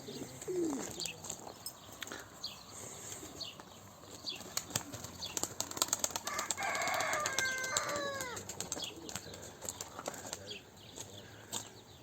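Racing pigeons released from their loft burst into flight with a flurry of clattering wingbeats, while a rooster crows nearby and other birds call under outdoor background noise.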